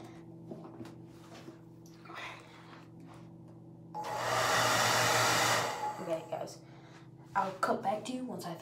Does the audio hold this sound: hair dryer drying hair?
yes